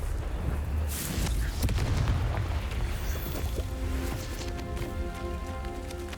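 Confringo fire spell blasts in the Hogwarts Legacy video game, a couple of sharp booming bursts over a constant rumbling game soundscape, with fainter tonal effects ringing toward the end.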